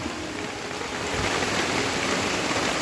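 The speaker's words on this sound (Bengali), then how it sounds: "অনেক বৃষ্টি পড়তেছে গ্রামে" Heavy rain pours down on a village road during the Baishakh season, a continuous broadband hiss of drops striking the surface, steady and close, swelling a little louder partway through with no voices.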